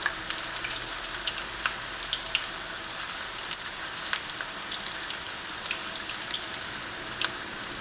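Plantain slices for tostones frying in hot oil, a steady dense crackle and sizzle with scattered louder pops, close and continuous with no talking.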